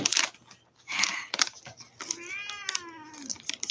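A pet cat meows close by, a drawn-out rising and falling meow after several short bursts of nearby rustling and tapping.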